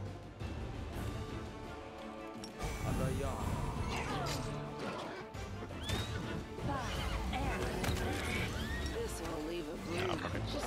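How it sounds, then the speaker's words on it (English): Plagued undead horses in a video game give out shrill, wavering neighs and cries over rumbling game noise, while a person talks over the fight. "Plagued horses."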